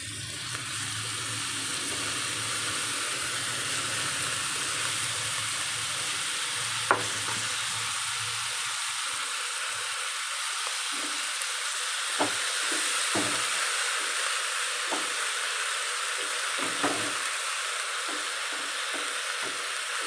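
Chopped cabbage frying in a pan and being stirred, a steady close sizzle with scattered scraping clinks from the utensil.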